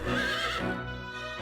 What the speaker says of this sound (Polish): Koń też chachnął.